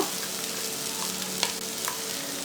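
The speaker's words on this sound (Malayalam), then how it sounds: "നമുക്കിനി ഇതിലേക്ക് ചിക്കൻ ചേർത്ത് കൊടുക്കാം. ചിക്കൻ പീസസ് ഇട്ട് കൊടുക്കാം." Hand-shredded chicken pieces frying in masala for Irani pola, a dense close sizzle with stirring scrapes and a few clicks of the spoon against the pan.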